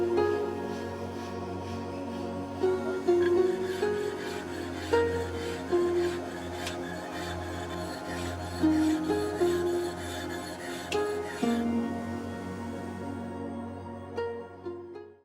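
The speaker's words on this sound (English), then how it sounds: "A flattening stone can make the whetstone surface flat again." A flattening stone rubbed back and forth across a whetstone to true its surface, repeated close gritty rasping strokes in a steady rhythm, no talk.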